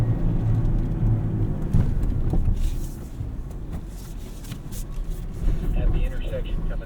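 A 2024 Toyota Tacoma TRD Off-Road with a 6-speed manual drives along a trail, heard from inside the cab as a steady low engine and road rumble with occasional rattles, while voices talk faintly.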